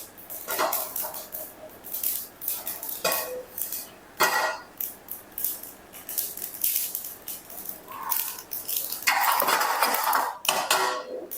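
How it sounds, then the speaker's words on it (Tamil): Mustard seeds splutter and pop while frying in a pan with fenugreek for mango pickle, giving a quiet run of irregular crackles and short bursts, louder toward the end, with no talk. "இப்போ கடுகு பொரியுது."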